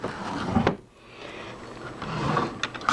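A small wooden drawer of a bureau is slid open or shut, giving a short scraping rumble near the start and another toward the end, close by with no voices.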